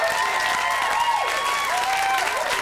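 Studio audience on a 1991 stand-up comedy TV show applauds and cheers, a dense steady roar of clapping with some raised voices, loud and continuous throughout.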